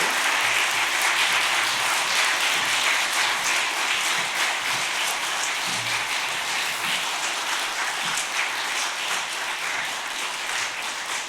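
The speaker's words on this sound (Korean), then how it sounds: "우리 네 분의 우리 명예권사님에게 다시 한번 박수로 인사하겠습니다" Congregation applause at a Korean church worship service honoring retiring elders and newly appointed honorary deaconesses. Many hands clap in a steady, dense wash that holds evenly for several seconds, with no speech over it.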